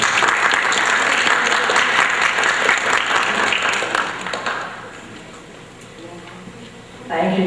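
Audience at a congregation event applauding to welcome a speaker, loud sustained clapping that tapers off over several seconds before a voice begins to talk.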